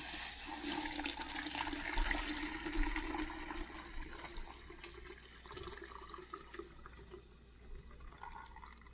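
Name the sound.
pouring boiled tea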